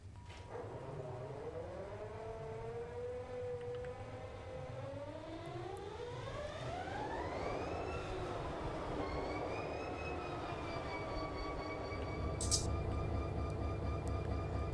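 EMD SD40-2 diesel locomotive starting up in Run 8 Train Simulator, a low engine rumble rising as the motor spools up with a climbing, siren-like whine that levels into a steady drone.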